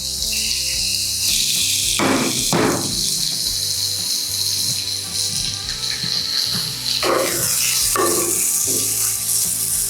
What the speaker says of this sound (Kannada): ನಾವು ಏನು ಪ್ರಾನ್ಸ್ನ ಮ್ಯಾರಿನೇಟ್ ಮಾಡಿದ್ವೋ ಅದನ್ನು ಪ್ಯಾನ್ಗೆ ಹಾಕಿ ಫ್ರೈ ಮಾಡ್ಕೊಂಬಿಡೋಣ